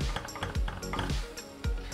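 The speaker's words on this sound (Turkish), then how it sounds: "Karıştırmaya başlıyorum." A flour and butter roux is stirred in a pot over medium heat, with a utensil clinking and scraping against the metal in quick, irregular repeated strokes, close but fairly quiet.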